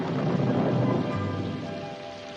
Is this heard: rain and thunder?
yes